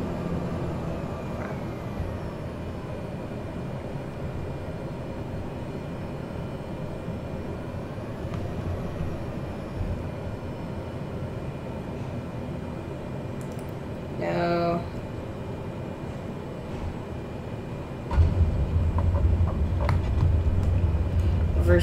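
Steady airliner engine drone during a landing approach in Microsoft Flight Simulator at Ísafjörður, fairly quiet and even, swelling briefly midway and rising into a louder rumble near the end as thrust changes.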